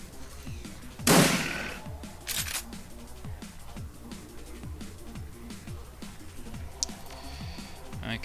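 Gunfire crackles through a firefight in the video game Shadowrun Returns, with one loud shot early and a quieter burst after it over a steady run of rhythmic game sound effects, no voices.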